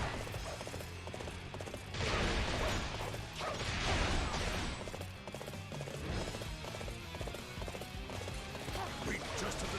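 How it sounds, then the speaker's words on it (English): Galloping horse in the video game Dynasty Warriors 8 Xtreme Legends on PS4: steady clip-clop hoofbeats with mechanical creaks, under dense game music and battle noise, swelling louder in bursts. "Okay, there's my horse."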